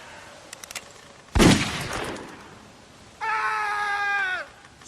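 A single loud gunshot blast rings out in The Walking Dead video game, decaying over about a second, followed later by a sustained tonal electronic whine; a few faint clicks come before the shot.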